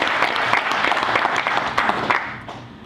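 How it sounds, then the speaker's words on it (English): Audience applause for military veterans in a lecture hall, a dense wash of many hands clapping steadily throughout, loud and close, fading slightly toward the end. "Oh, okay, give them a round of applause."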